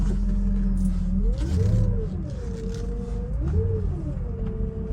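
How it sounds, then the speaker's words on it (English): A steady engine hum from a 2006 Mercedes-Benz SL500 carries a thin, high-pitched pump whine that rises and falls in slow sweeps, close and continuous with no talking. "Sounds like that's the pump. A lot of whining and high-pitched noise."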